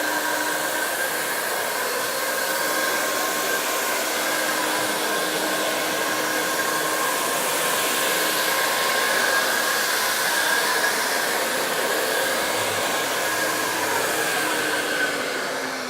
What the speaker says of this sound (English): once I activate the trigger, the machine comes up and I can start working